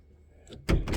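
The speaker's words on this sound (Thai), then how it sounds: "เดี๋ยวมาม่าเปิดประตูให้แม่จะออกไปใช่ไหม" A house door is opened to let a cat outside, a quiet rustle and click followed by a louder thud and rattle of the door moving, close by in a quiet room.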